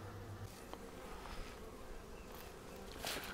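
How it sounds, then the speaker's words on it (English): Bees hum and buzz steadily around a beekeeper's glove, a faint, continuous insect drone with occasional closer passes swelling briefly, and no talking. "I'll make sure I've got no bees on my glove"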